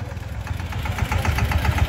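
A Massey Ferguson tractor engine idles with a steady low, pulsing rumble that stays close and even throughout, with no voices over it.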